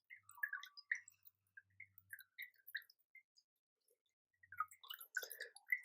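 Water drips and trickles out of a freshly repotted Brassocattleya orchid pot in quiet, scattered droplets and small patters, with a short pause midway before a busier run of drips.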